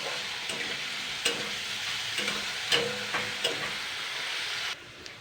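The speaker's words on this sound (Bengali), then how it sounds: "এটা দিয়েও আমি আরও 4 মিনিট মতন এবার আমি ভালো করে কিন্তু ভেজে নেব।" Leftover rice with sugar and salt hisses in a hot pan while a spatula stirs it in intermittent scraping strokes, close and steady until the sizzle drops away near the end.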